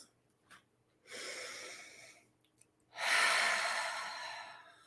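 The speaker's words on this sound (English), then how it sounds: "So let's take 3 breaths." Two deep, slow breaths taken during a calm grounding exercise, each a long airy rush of air. The second breath is louder and longer, with a faint short breath or sniff beforehand.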